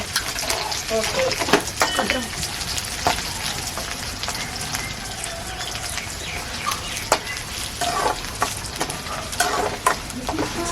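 Small shallots frying in oil for a fish kuzhambu, a dense sizzle with frequent spoon scrapes and clinks against the pan, close by, with some faint background voice.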